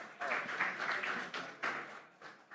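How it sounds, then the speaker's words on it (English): An audience claps for the founder of Loka Mining at a conference talk, a moderate, fairly close round of applause that swells and ebbs in bursts before fading. "Please, big round of applause."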